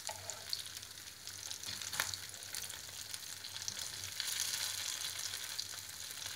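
Egg-free croquettes fry in oil in a pan, giving a close, even bubbling sizzle that swells slightly toward the end, with a brief stir or shuffle early on and no speech.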